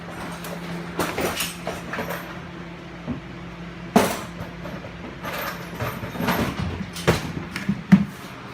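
Hammer strikes on a front strut assembly from a 2006 Toyota 4Runner Limited 2WD, several sharp metallic hits spaced irregularly over low workshop noise, with no talking.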